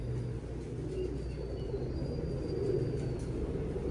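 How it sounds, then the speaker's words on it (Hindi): A racing pigeon arrives and coos softly, faint calls sitting over a constant low rumble with no talking. "ये आ गया जी, ये कबूतर नंबर 2 है जी।"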